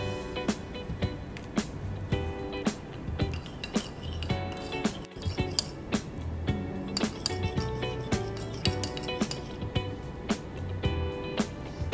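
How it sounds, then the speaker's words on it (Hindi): Spoon clinking against glass while two spoons of rose water are stirred with a spoon of glycerin for a homemade makeup remover, with repeated bright taps in an irregular rhythm, close and clear, with no talking. "दो चम्मच गुलाब जल लेंगे और फिर इसमें हम एक चम्मच ग्लिसरीन मिलाएंगे"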